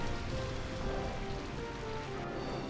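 Steady, dense rain hisses and patters continuously and fairly loudly during a Pokémon Colosseum video game battle, with no voices over it.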